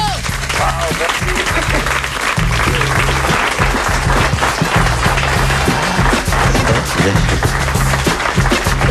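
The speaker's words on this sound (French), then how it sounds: "On t'applaudit, Malik. Bravo." Studio audience on a French comedy talk show applauds for a guest, clapping steadily over a pulsing music bed, with some voices in the mix.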